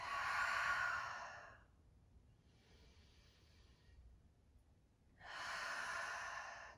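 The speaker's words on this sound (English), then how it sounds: "Exhale through your mouth." A slow yoga exhale through the mouth in a stress-relief session, a long soft breathy rush that fades into quiet and then returns as another full, close breath.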